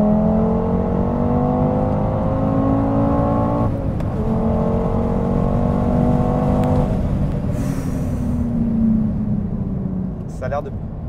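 A turbocharged car accelerating hard from a start in second gear, engine revs climbing in rising sweeps with gear changes between them, loud and close.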